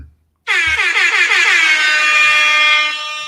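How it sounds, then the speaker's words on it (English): A loud, sustained air horn blast sounds alone after a brief quiet start, holding steady for nearly three seconds before tapering slightly at the end. "Air horn."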